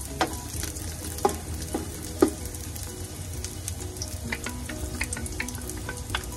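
Garlic frying in oil for chicken tinola, a steady close sizzle with occasional sharper pops and stirring clicks, no talking.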